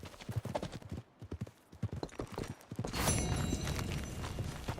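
Rapid clip-clop of a horse's hooves in Red Dead Redemption 2, steady and close, running on with a louder stretch of rustling movement and faint background tones toward the end.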